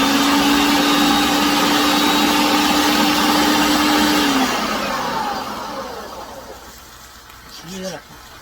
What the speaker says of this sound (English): I am going to crush my San Marzano tomato in the blender